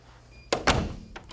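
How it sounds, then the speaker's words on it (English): A door controlled by an Akuvox R20 video intercom shuts, giving two solid close thunks as its magnetic lock engages, followed by a faint click. "That mag lock is once again engaged."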